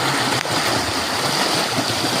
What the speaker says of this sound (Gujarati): લેર તૂટી ગઈ છે, જોઈ લેજો કે ખૂબ પાણી આવેલું જોઈ લેજો.